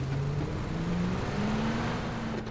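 A steady car engine drone in the video game PUBG, on the Miramar map, hums throughout, its low pitch slowly rising as the vehicle accelerates, continuous and fairly loud with no voices.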